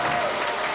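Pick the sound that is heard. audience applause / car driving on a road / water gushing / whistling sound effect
audience applause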